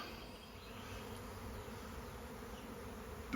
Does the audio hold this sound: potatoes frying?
no